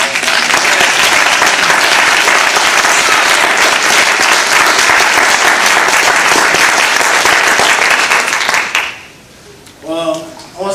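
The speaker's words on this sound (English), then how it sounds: "I just want to give Him a big round of applause" An audience at a VCU baccalaureate ceremony breaks into loud, sustained applause that roars evenly for about nine seconds, then drops away as a voice begins speaking over a quieter hall.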